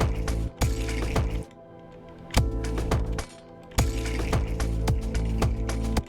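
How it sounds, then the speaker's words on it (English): Remastered Skyrim trap trigger sound effect: repeated sharp mechanical ratcheting clicks and clanks over a sustained low drone, in bursts separated by brief quieter gaps. "Actually, that's the sound of those traps that you trigger."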